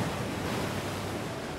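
Sea waves crash against rocks in a continuous, loud roar of surf with a broad, hissing wash and no pauses, with no voices heard.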